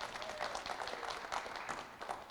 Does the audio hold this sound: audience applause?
yes